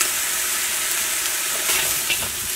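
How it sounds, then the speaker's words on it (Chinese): Chicken stir-frying in a wok with soy sauce and salt, a continuous moderate sizzle and hiss with faint scraping, no voices. "把鸡肉多炒一会儿"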